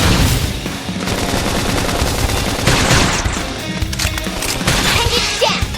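Heavy gunfire rattles through a battle in the video game Xenoblade Chronicles X, loud bursts of rapid shots stacked over game music and effects, continuing without a break.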